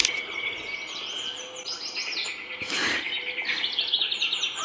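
Recorded birdsong from a sleep and meditation sound box plays as several birds chirp and trill in quick overlapping phrases, bright and fairly close over a soft ambient bed, with a sharper burst midway; no talking.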